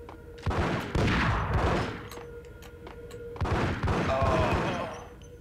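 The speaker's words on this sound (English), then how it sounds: "Did he shoot the other guy, or did they somehow see me and he accidentally shot him?" Loud bursts of gunfire in Max Payne, two clusters of rapid, booming shots with echoing tails, separated by a brief lull of lingering reverberation.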